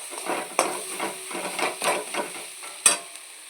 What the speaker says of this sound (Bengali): এবার কাঁচা লঙ্কা দিয়ে বেশ খানিকক্ষণ কষিয়ে অল্প একটুখানি চিনি দিয়ে শুধু কষাতে হবে।